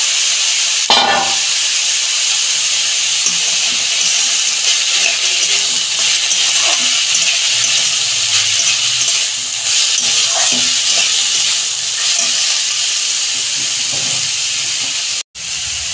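Bori (dried lentil dumplings) and potatoes frying in a pan, giving a steady close hiss and sizzle that runs throughout with a few small clinks, then cuts off briefly near the end.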